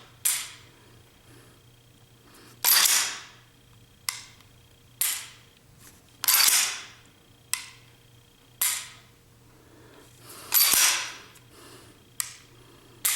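A pistol being dry-fired produces a series of sharp, close mechanical clicks and snaps with pauses between them. The pistol is an XD45 fitted with a PRP trigger kit.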